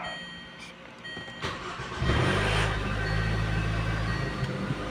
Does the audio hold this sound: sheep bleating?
no